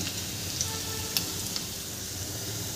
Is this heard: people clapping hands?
no